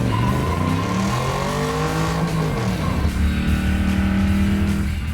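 An LT1-swapped 1971 Chevy C10 truck driven hard on a technical, roughly mile-long race track, engine roaring and shifting pitch as it accelerates, with tires squealing through a corner, loud and close.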